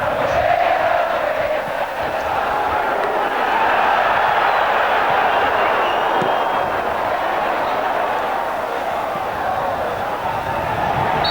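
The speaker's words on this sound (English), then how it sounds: "The crowd are now beginning to get behind the side a little more." A packed football stadium crowd roars steadily through a 1998 Argentina vs Bulgaria friendly, with loud, sustained massed cheering and chanting sitting close and continuous, no breaks or lulls.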